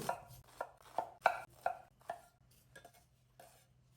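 Knife chopping ridge gourd into large pieces on a board, a run of sharp, evenly spaced chops near and distinct, fading to lighter taps toward the end, with no talking.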